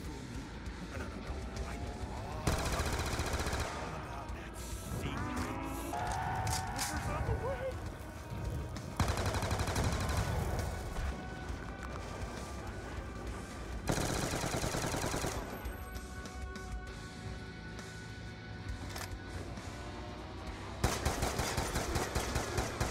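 Rapid automatic gunfire and bursts of shots from the Tranzit zombies video game, loud and continuous over about twenty seconds, with players talking over the action.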